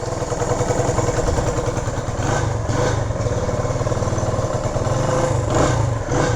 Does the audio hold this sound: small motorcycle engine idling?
yes